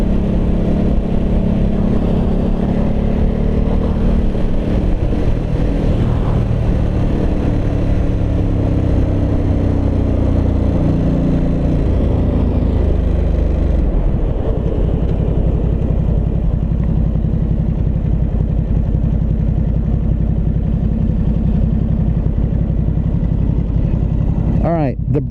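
A 2022 Ducati Supersport 950 engine drones and revs throughout a test ride, shifting in pitch as it accelerates, under heavy wind roar and a rider talking over it.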